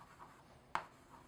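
A pen scratches faintly across paper while working out a calculus solution, with soft strokes and one sharper tap in near-silence.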